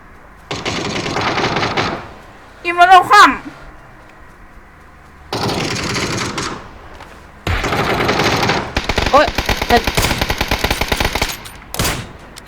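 Automatic gunfire in the video game PUBG comes in three rapid bursts, a short one, a second after a pause, and a long sustained volley near the end, all close and loud.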